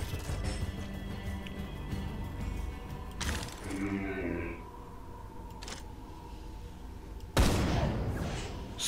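Gunfire in Dino Hunter: Deadly Shores as a hunting rifle is fired at a dinosaur: two sharp, loud blasts several seconds apart, the second followed by a broad crashing tail, over steady game ambience.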